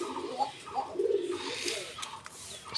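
Domestic pigeons kept confined in a coop coo softly and continuously at close range, overlapping low murmuring calls with faint rustling behind.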